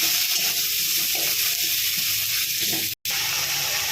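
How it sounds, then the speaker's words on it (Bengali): Garlic and ginger paste, chili powder and turmeric sizzle loudly in hot oil while being stirred, a dense close hiss broken briefly by a short dropout near the end. "রসুন আর আদা বাটা, লঙ্কা গুঁড়ি দিয়ে দিচ্ছি, হলুদ গুঁড়া দিয়ে একটু ভালো করে নেড়ে নেবো"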